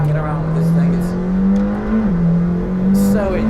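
A McLaren Senna 800 sports car engine revs loud and close with a steady, rising howl, dipping briefly at a sharp, quick gear change before climbing again.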